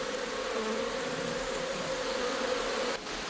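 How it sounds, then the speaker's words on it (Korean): Bees swarm around their hive in a steady, close, droning buzz that holds evenly, then briefly dips near the end, with no voices. "한번 털을 잡고 집을 짓기 시작하면 벌은 이곳이 평생 자신의 집인 줄 알고 들락거린다."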